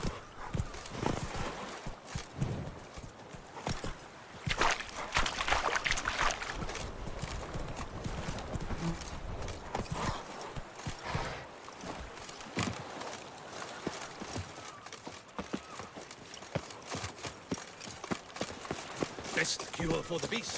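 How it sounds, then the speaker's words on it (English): Horse hooves clip-clop steadily at a trot in The Witcher 3, a continuous rhythmic patter at moderate distance with occasional voices and ambient game sounds. "Whoa there, Roach."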